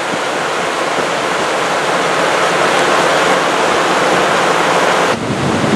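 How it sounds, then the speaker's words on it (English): Floodwater roars through a washed-out stretch of the Coquihalla highway during 2021 high water, a loud, steady, close torrent that fills the whole clip, with a brief dip near the end. "Lots of water coming through here. Water finding a new way."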